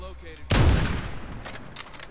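A single sharp, loud gunshot or blast in the video game Call of Duty: Warzone, hitting hard and close with a long, echoing tail, followed by fainter background game sounds.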